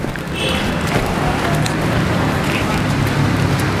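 Steady rain hisses throughout, a dense, even wash of noise with faint scattered patters, fairly loud and close, with no voices.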